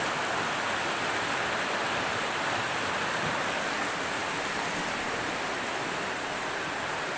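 Steady, loud rushing roar of a waterfall, likely a mountain falls with rocky footing, filling the whole scene with continuous broadband noise and no voices.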